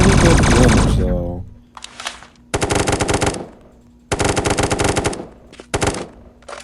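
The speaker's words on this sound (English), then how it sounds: "All I know is that the machine guns do pretty good damage though" Automatic machine gun fire from a video game rattles in loud, rapid bursts separated by short pauses, after a brief burst of other game noise at the start.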